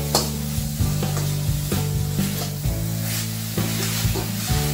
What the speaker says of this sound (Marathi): आणि परतून घेऊया चांगला